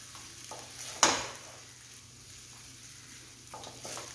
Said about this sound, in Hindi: हम प्याज को अच्छे से भूनेंगे, उसका कच्चापन पूरी तरीके से निकलने तक